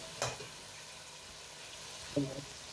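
Beef goes into a deg of fried tomato masala for yakhni pulao, giving a soft, steady sizzle with two brief clatters of stirring, one early and one near the end.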